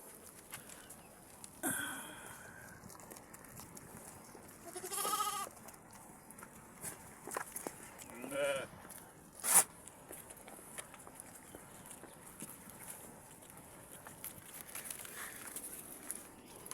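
Goats and young kids bleat in several short, separate calls while feeding in a dry area, each call fairly near and clear against a quiet outdoor background, with a faint step or rustle now and then.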